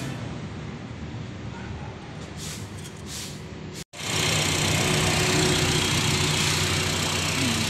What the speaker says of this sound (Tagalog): At atin yung papaanda rin.